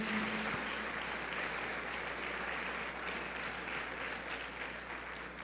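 Church congregation applauding, a continuous dense wash of clapping that holds steady throughout, with a brief tone at the very start.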